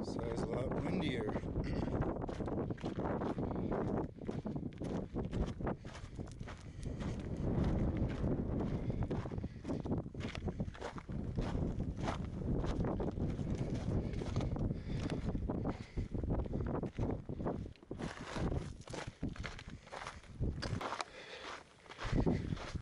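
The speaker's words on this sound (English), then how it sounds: "So it's a lot windier." Strong gusts buffet the microphone on a high mountain trail along the John Muir Trail, a steady roaring rumble that swells and eases, with a hiker's voice talking over it.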